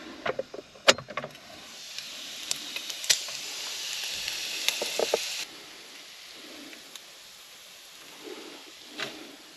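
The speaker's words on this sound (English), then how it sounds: "And all we need now is some bacon." Bacon fries in a pan at a campsite, a steady crackling hiss that swells for a few seconds and then settles to a quieter sizzle, with a few sharp pops near the start.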